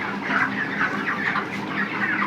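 Chickens at a market cluck and murmur continuously as a flock, a busy layered chatter at moderate distance with no speech over it.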